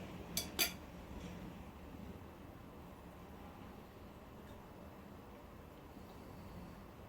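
Cutlery clinks against a dish while black-eyed pea tarator is tasted, two quick bright metallic chinks near the start, then a quiet kitchen room tone with no talking.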